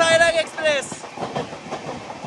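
A two-tone horn blares as the Kolkata–Sairang Express passes, then the train's wheels clatter rhythmically over the rails close by.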